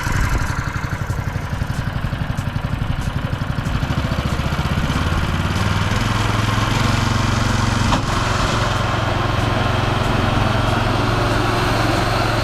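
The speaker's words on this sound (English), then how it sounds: "Gonna have a mow and see what it looks like." A lawn mower runs steadily and loud while cutting a newly acquired lawn, a dense, continuous engine drone close by that shifts slightly in pitch as it works across the grass.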